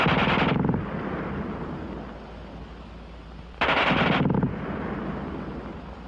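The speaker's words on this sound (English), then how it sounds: "the German gun fires faster than anything you've run into before." German WWII machine gun firing in two rapid, dense bursts a few seconds apart, each loud and sharp and followed by a lingering rumbling echo, with no voices.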